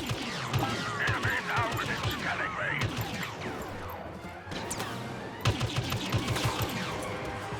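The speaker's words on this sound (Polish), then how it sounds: "To ja do nich strzelam." Rapid blaster fire from the Star Wars Battlefront video game on Endor, a dense stream of sharp electronic shots with mechanical clatter and crashes, near and loud, continuing for several seconds.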